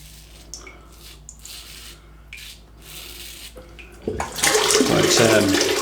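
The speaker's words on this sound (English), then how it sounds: "You maybe need to rinse it a bit more" Water runs and splashes as a single edge razor is rinsed under a tap. It starts as a faint background trickle and turns into a louder, close gush in the final two seconds, with no talk.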